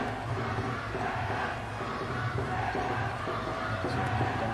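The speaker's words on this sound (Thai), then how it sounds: "กองเชียร์ชาวไทยนะครับกระหึ่มนะครับ" Thai supporters at a Thailand–Vietnam sepak takraw team match roar and cheer loudly, a dense, steady crowd din filling the indoor arena throughout with no pauses.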